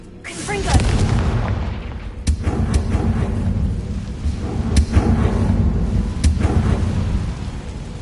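A Confringo fire blast spell explodes in the Hogwarts Legacy video game, a heavy rumbling burst with several sharp cracks and booms over a continuous low roar, with a voice calling out briefly.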